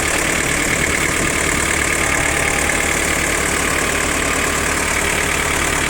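Iseki TL3220 four-wheel-drive four-cylinder tractor engine idling steadily up close, a continuous loud rumble with a constant throb and no voices throughout.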